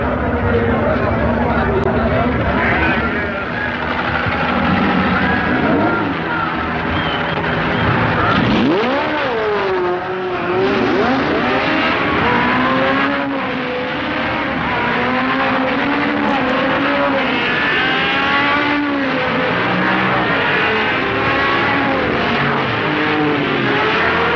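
At the start of the 1969 Sebring 12 Hours, a field of about seventy race cars, Porsches leading, roars away together, engines revving and shifting in a loud continuous rising and falling blare while a commentator talks over it.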